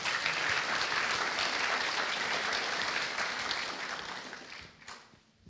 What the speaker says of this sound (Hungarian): Taps, gratulálunk.